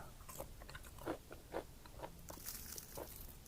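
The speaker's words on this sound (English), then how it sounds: "See the crunch?" Crunchy Filipino okoy shrimp fritters being bitten, giving a few crisp crunches and chewing sounds close up at a low level, with no talk.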